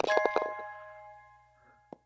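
A phone call notification chimes during a Golf+ virtual reality golf game: a quick cluster of bright tonal dings at the start with a lingering ring, then a single short ding near the end.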